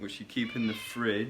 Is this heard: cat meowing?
yes